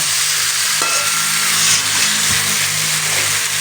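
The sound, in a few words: ridge gourd frying and stirred with spice paste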